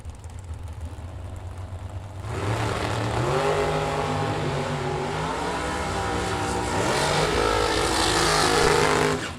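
Drag racing cars launch down the strip at Byron Dragway during bracket racing: a loud engine roar bursts in after a quieter idle, then holds as a sustained, rising howl with shifting pitch.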